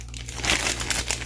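Empty plastic bags from a car timing kit for a Honda K engine crinkle and rustle up close while parts are unboxed, a continuous dense crackling with no talking.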